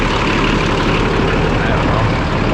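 A classic Oliver tractor's engine idles smoothly and steadily at close range, a continuous low, even rumble with no change in pace throughout.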